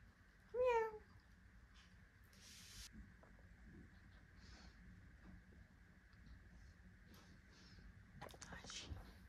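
A house cat gives a single short, clear meow early on in a quiet indoor room, followed by faint rustles and soft household noise.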